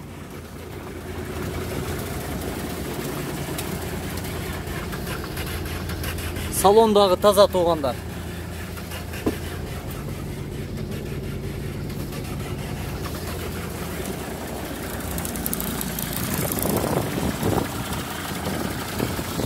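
Low, steady rumble of a diesel engine idling nearby, with someone talking over it and a brief squeak partway through.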